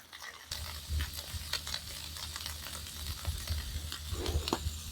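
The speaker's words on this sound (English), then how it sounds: "How's that sizzling? Is it coming out good on the microphone?" Steady crackling sizzle of food frying in a pan at a forest campsite in fall, close up, with occasional stirring clicks and pops.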